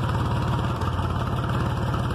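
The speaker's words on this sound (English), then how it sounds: "Idling away at 700 RPMs." A Ford engine idles smoothly at about 700 RPM, a steady low rhythmic chugging that stays even and close throughout, with no talk over it.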